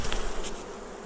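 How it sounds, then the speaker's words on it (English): Honey bees buzzing in a dense, steady drone as they are shaken off a hive frame into a split colony, close and continuous with no voices. "So I'm going to shake these bees off once again"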